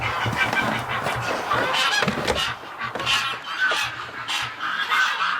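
Waterfowl honk and call loudly in a dense, overlapping chorus on a winter morning, many birds sounding close and continuously throughout.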